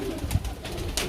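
Pigeons, a pair of chapra (Chipra) breed birds in Gujrat, Pakistan, coo softly in a low rumbling murmur with a few bursts of wing or handling noise, close by and with no talk.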